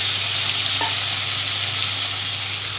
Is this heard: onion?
yes